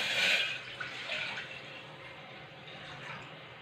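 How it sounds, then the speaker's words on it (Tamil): Milk is poured into a pan set on the stove for boiling, giving a short liquid splash and trickle that is strongest at first and then settles into a quieter steady flow. "இப்போ பால் சேர்த்துக்கலாம்."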